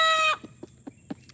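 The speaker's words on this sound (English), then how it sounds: "we have a few of these roosters in a whole separate pen" A rooster's loud crow cuts off, followed by a string of short, close clucks spaced irregularly, from roosters kept in a separate pen on a homestead.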